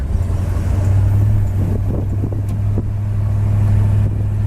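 A red 1964 Chevy Chevelle convertible driving, its engine a steady low drone with wind rush over the open top, fairly loud and constant with a couple of brief knocks midway.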